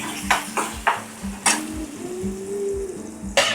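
Prawns and Bombil (Bombay duck) being stirred and roasted in a pan, with repeated scraping stirs and clinks of a utensil over a steady low sizzle, close and fairly loud, no talking.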